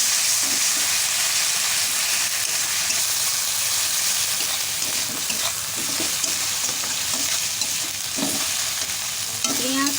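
Ground onion and green chili paste is sautéed and stirred in a pan for a village-style egg curry, producing a loud, steady sizzle with scraping stir strokes and sharp clinks near the end.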